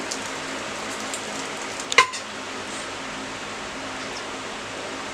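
A bread omelette fries in a pan after being turned to cook the other side, giving a steady soft sizzle with one brief clatter of the utensil against the pan.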